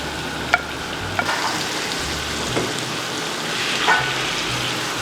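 Chopped tomato is added to a hot pan of oil and curry powder for Nigerian egg sauce and fried while being stirred. It gives a steady close sizzle with a few sharp scrapes of the spoon, and nobody talks.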